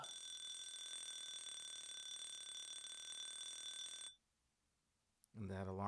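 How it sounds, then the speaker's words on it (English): An alarm clock on a progressive metal album rings in a steady, continuous electronic bell tone for about four seconds, then cuts off into near silence before a voice begins. "And that alarm clock."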